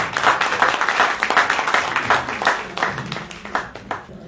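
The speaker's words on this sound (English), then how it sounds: "Round of applause." An audience at a political forum gives a round of applause, uneven bursts of clapping from a modest crowd, fairly close, with a little talk mixed in and the clapping thinning toward the end.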